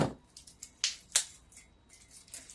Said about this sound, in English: Just having a little time getting that piece of tape up.